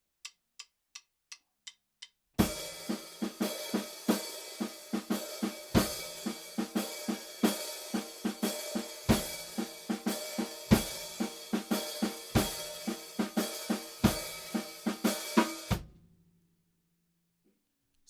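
A few light clicks count in, then a full drum kit plays a steady groove with punchy kicks and crisp cymbals before stopping abruptly.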